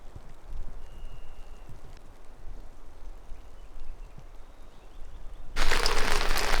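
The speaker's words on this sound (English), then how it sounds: "our paradise camp has started raining" Steady patter of rain falling on a campsite outdoors, a soft continuous hiss that grows suddenly louder and heavier near the end.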